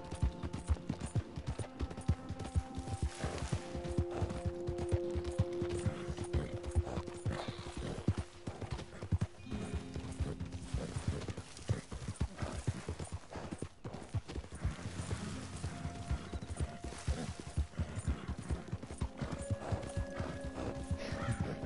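Horse hooves clip-clop steadily through a Red Dead Online game scene, with a whinny breaking in, all over dense game ambience and tonal music, continuous and fairly loud.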